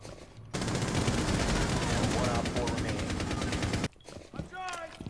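Rapid automatic gunfire from a firefight in Rainbow Six Siege, a loud sustained burst of shots lasting several seconds, then stopping abruptly and followed by quieter scattered sounds and brief talk.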